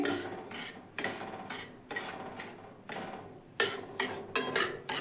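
A spoon scrapes rhythmically against a pan while semolina roasts, with repeated rasping strokes about every half second, close and moderately loud, with no talking.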